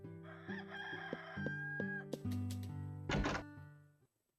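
A rooster crows in Harvest Moon: Hero of Leaf Valley, one bright, strained call over cheerful looping game music, with a couple of thunks and a brief rustle before the track cuts to silence.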